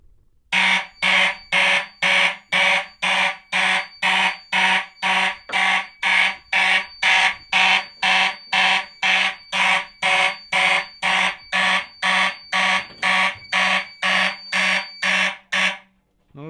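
A fire alarm system set off by smoke test spray sounds a loud, steady pulsing horn, evenly repeating tones about twice a second that continue unbroken for the whole stretch before cutting off.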